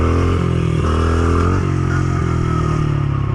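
A motorcycle with bent forks being ridden on a road and accelerated for a wheelie, its engine loud and close, revving upward through several gear changes in a continuous roar.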